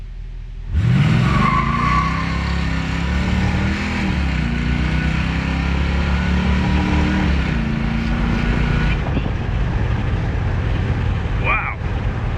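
An El Camino engine with Jegs long-tube headers roars at sustained high revs on a dyno with a broad, steady drone, tires spinning and whirring throughout, then the pitch drops as it winds down near the end.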